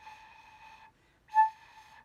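Flute head joint blown off the sweet spot gives a thin, breathy, airy tone, held for about a second, briefly broken, then resumed with a slight swell, soft and close.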